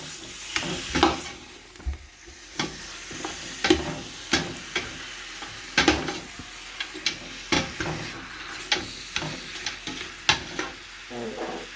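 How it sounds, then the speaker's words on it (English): Mutton frying in a large pot for spinach palak gosht, stirred with a ladle: a steady sizzle under repeated scraping, clattering stir strokes about once a second, close and fairly loud, with no talking. "Give it a good stir."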